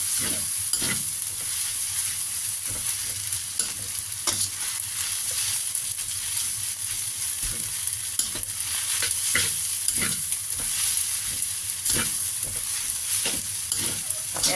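Rice noodles stir-fried in a wok, Thai tea-shop style, with a steady loud sizzle and repeated scraping strokes of a spatula against the pan, close up and without voices.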